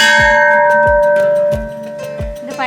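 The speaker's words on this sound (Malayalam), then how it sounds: "അതാണ് നമ്മുടെ ജാപ്പനീസ് ബെൽ." A homemade Japanese-style bell made from an old oxygen cylinder rings with four evenly spaced metallic strikes, each leaving a long, bright, sustained hum that lingers loud and close.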